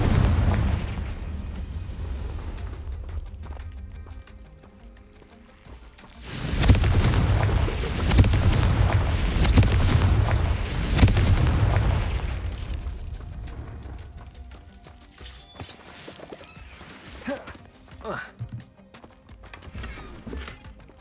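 Confringo fire spell explosions in Hogwarts Legacy, a burst of heavy booming blasts and crackling rumble in the middle, then scattered sharper impacts and lighter game effects against a quieter ambient background.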